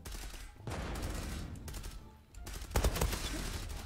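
Bursts of automatic gunfire from weapons in the online shooter Zula, rapid loud volleys with a brief lull, then a heavier cluster of shots near the end.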